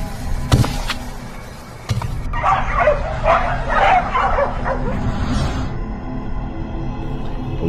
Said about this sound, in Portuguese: Passos pesados e agito de cachorros.